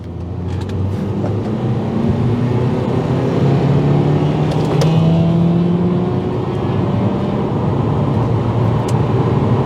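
A Honda Accord Euro CN1 diesel engine roars loudly and climbs steadily in pitch as it accelerates hard in second gear during a drag race, with no talking.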